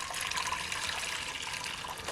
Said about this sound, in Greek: Σε μια κατσαρόλα θα βάλω περίπου 2 λίτρα καυτό νερό.